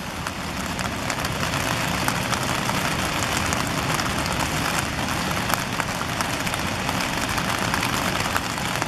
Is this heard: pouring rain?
yes